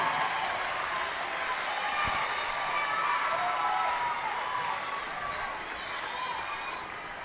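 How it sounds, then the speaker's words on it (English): Graduation-ceremony audience giving a sustained round of applause, a broad crowd wash holding steady the whole time and easing slightly near the end, with faint cheering and whistles mixed in. "give everyone out here in the audience an applause, a round of applause for supporting you through this"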